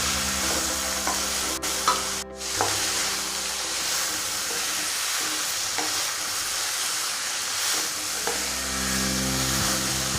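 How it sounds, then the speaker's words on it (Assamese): Chopped banana flower and chicken are stirred in a hot pan, home-style, giving a steady close sizzle broken by scraping spatula strokes and a few sharp clacks against the metal, with no voices. "এতিয়া এইখিনি ভালদৰে মিলি যোৱাকৈ ভালদৰে লৰাই দিব লাগিব।"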